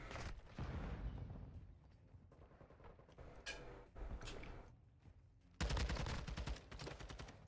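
Rapid bursts of gunfire in a Call of Duty match, dense and rattling like automatic weapons, with a louder, fuller barrage breaking out near the end.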